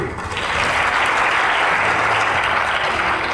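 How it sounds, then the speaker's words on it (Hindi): Sustained audience applause welcoming a guest to a Pakistani political TV debate, steady dense clapping from a studio crowd filling the whole stretch at an even, fairly loud level. "प्लीज़ तालियों से वेलकम कीजिए।"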